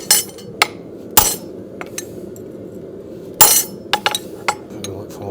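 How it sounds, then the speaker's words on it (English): Hammer blows on hot steel while forging a horseshoe at an anvil, sharp ringing metallic strikes coming in irregular clusters of single and doubled hits, close and loud over a low background rumble. "There is just something extremely satisfying about forging your own horseshoe."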